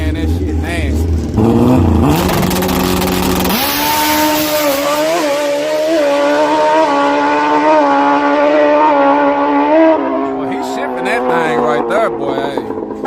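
Grudge drag racing motorcycles make a pass, roaring loudly up through the gears with rising, sustained engine whine for several seconds before fading, heard close over crowd noise.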